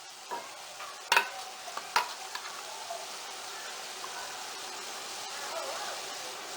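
Rice and egg sizzle softly in a frying pan, with a few sharp scrapes and clinks of a spatula near the start and a low steady frying hiss underneath, quiet and close.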